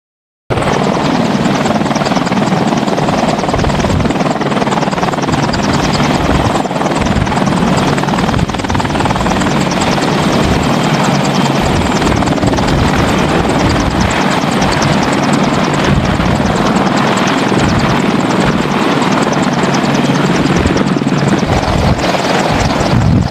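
An AH-64 Apache attack helicopter roars continuously and loudly nearby, its rotor thudding and turbine whine filling the whole stretch steadily without pause or voices.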